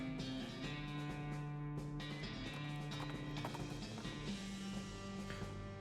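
Horse hooves clip-clop at a steady walking rhythm in the West of Loathing video game, mixed under a sustained tonal music bed with no talking.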